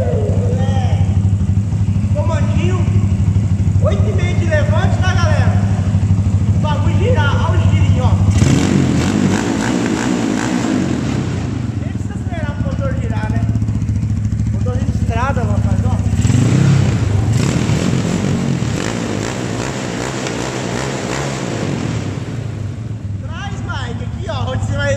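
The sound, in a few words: Honda CG 255cc four-stroke motorcycle engine started and running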